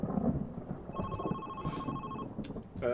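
A telephone rings with a repeating electronic tone inside the video game The Red Strings Club, sounding steadily over a dense ambient bed of rain and thunder.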